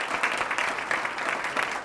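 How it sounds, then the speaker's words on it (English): Audience applause for future teachers at a board of education meeting, a steady dense clapping that fills the whole moment without pause. "can we get one more round of applause for all of our future teachers?"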